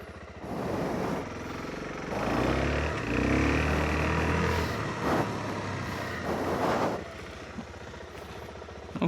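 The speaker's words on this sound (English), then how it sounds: "So now we are going to do a brake test. So I've got full ABS on" A Suzuki DR-Z4S motorcycle with full ABS rides off and brakes hard on dirt, its engine rising loudly then dropping away, with tyre and gravel noise nearby and no talk.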